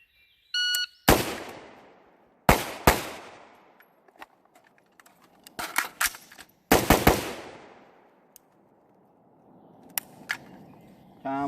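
Rifle and pistol shots ring out during a timed shooting drill, sharp loud reports in quick pairs and clusters with gaps between them, a start beep at the beginning and faint noise in between.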